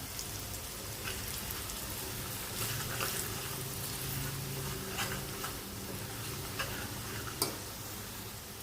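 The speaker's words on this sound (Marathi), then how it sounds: "मी हिंग, हळद, गरम मसाला, लाल तिखट मसाला हे एक चमचा आहे, अर्धा चमचा आहे असं घालून घेते आणि तेलामध्ये चांगलं असं परतून घेऊया" Asafoetida, turmeric, garam masala and red chili powder sauté in hot oil for a Malvani taro leaf bhaji, with a soft, steady sizzle, frequent crackles and occasional spoon stirs close by.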